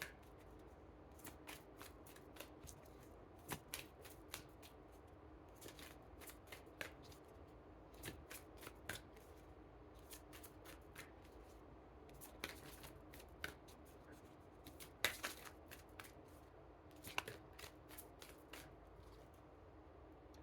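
A Romance Angels oracle card deck is shuffled by hand in a quiet room, giving soft, repeated riffling and flicking of cards in uneven bursts over a low background hiss.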